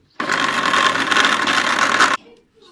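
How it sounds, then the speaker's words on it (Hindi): An electric grinder whirs loudly as it grinds pheoni vermicelli in a jug, a bright, harsh motor whine that starts abruptly, runs steadily for about two seconds, then cuts off sharply. "फ्योनी हमने जग में डाल दिया, अभी इसको ग्राइंड करेंगे।"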